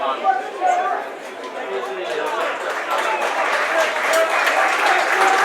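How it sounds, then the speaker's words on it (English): Crowd at a Whitehaven versus Hunslet rugby league match applauding a substituted player, a broad, sustained roar of clapping from the stands that swells toward the end, with chatter and a commentator talking over it. "A nice round of applause for Stuart Howarth"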